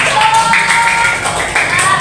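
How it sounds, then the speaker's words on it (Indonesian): Classroom applause from primary-school pupils during a fifth-grade science microteaching lesson, a steady burst of many hands clapping at close range, with brief vocal sounds mixed in. "Tepuk tangan."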